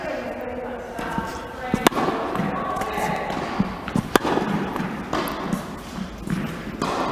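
Tennis balls struck with forehand volleys at the net on an outdoor court, a few sharp isolated pops spaced seconds apart over a busy background, with a person talking.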